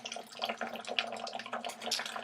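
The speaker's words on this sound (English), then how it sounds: "you do want a good flow of water" Water flows and trickles while a diamond Dremel rotary bit drills through stone, giving soft, irregular splashy gurgles close by at low level.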